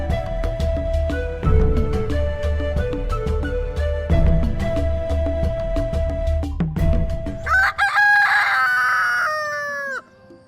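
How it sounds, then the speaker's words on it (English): A rooster crows loudly and close, several long strained calls over clucking hens, ending with a bright drawn-out crow. "The Crow and Rooster starts the day early"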